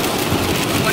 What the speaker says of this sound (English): I'd rather drive in the rain than snow any day.